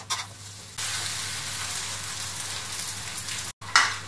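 Wide rice noodles with pork stir-fried for pad see ew with sweet dark soy sauce sizzle loudly in a hot pan, stirred in scraping bursts and broken by a brief cut in sound.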